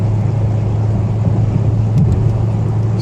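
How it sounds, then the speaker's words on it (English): Maserati Ghibli S Q4 engine pulling through gears on a test drive, a loud steady low rumble from inside the car with a slight surge near the end, no talk. "hearing this car shift from second to third, third to fourth,"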